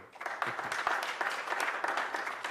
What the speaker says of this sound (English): one last round of applause